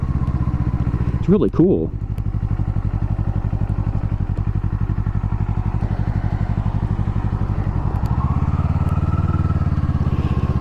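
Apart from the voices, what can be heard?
2024 Kawasaki Eliminator motorcycle engine running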